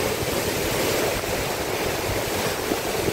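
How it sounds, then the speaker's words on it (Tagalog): Large ocean waves crash and wash along the shore at Bucana, making a continuous loud roar of surf with wind buffeting the microphone. No one speaks over it. "Matagal-tagal ulit o ilang araw ito bago lumiit yung alon"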